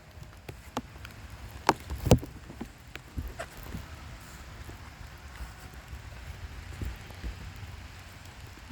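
Light outdoor rain patters steadily with scattered louder drips and taps on nearby surfaces, a soft continuous wash with no voices.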